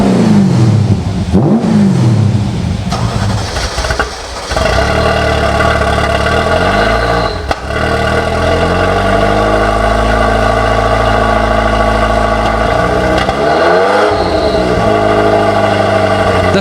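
A 1988 Ferrari supercar's V8 with four carburetors, 432 brake horsepower at 6,200 RPM, revs hard and loud, rising and falling through several sweeping throttle blips over a sustained roar, alone without talk.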